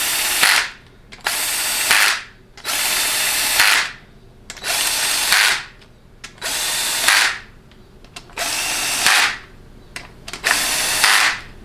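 A quarter-inch impact wrench runs down bolts during a 6R80 transmission rebuild, firing seven loud, close hammering bursts of one to one-and-a-half seconds each, with short quiet gaps between them.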